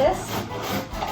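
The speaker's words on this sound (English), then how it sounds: "Now we're gonna grate some beets." Beets rub against a hand grater in a few quick, close rasping strokes.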